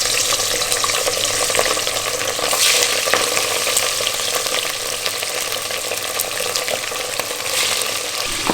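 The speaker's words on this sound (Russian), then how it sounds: "Теперь кульминационный момент, закидываем мясо." Lamb meat sizzling and frying in hot oil in a kazan on a stove, a loud, steady crackle that runs the whole time with occasional stirring and scraping, and no voices.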